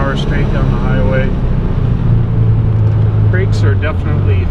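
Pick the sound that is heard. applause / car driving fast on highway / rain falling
car driving fast on highway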